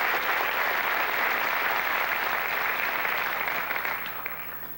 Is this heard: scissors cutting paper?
no